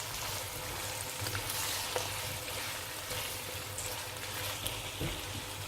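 Mutton frying with ginger garlic paste in a pan while being mixed makes a continuous sizzle with occasional scraping stir sounds and small clicks, fairly loud and close, with no talking.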